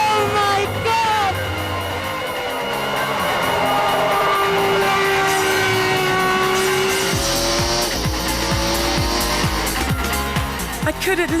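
Arrows two-seater Formula One car speeding around bends, a loud screaming engine note that rises and falls through gear shifts, with tyre noise and a passenger's shouts mixed in.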